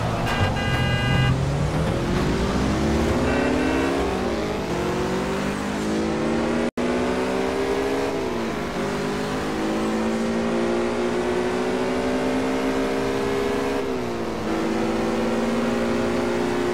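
Car engine revving and shifting in Test Drive Unlimited, loud and continuous with rising pitch sweeps that drop at each gear change, over steady road noise.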